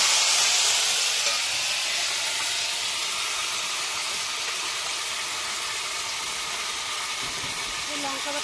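Ginger and chili paste sizzling in a curry pan, a steady loud hiss and crackle that holds evenly throughout, close up, with a faint voice underneath.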